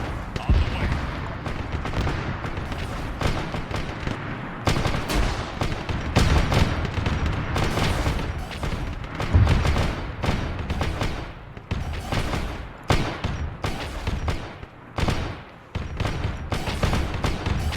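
Artillery and explosions in the Arma 3 game, with dense, repeated booms and gunfire bursts that come in heavy, loud waves nearly without pause, and a voice talking at moments.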